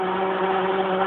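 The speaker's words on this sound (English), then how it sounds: "I'm going to start the machine, continue running the machine, and pulling my blender up out of what will become mayonnaise." An immersion blender runs steadily while emulsifying homemade mayonnaise, a constant close whirring hum with a strong motor tone and no breaks.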